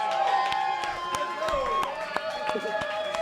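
A big Super Bowl crowd cheers and claps in a dense, steady roar, sharp claps and whoops cutting through repeatedly across a few seconds.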